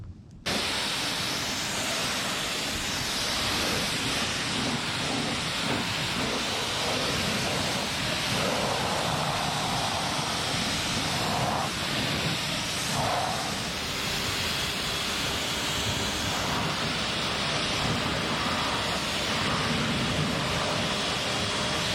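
A water hose rinsing a car's exterior from the bottom up during detailing, producing a steady, continuous hiss and spray throughout without pause.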